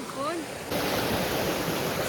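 River water rushing at a rocky trek crossing near Khopoli falls, a broad continuous roar that grows louder partway through, with a voice briefly heard at the start.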